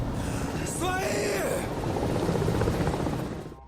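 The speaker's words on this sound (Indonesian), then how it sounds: "datanglah helikopter tempur Rusia melancarkan serangan" A Russian combat helicopter on an attack run, its rotor noise loud and continuous throughout, with a brief gasp-like voice and mechanical sounds near the start.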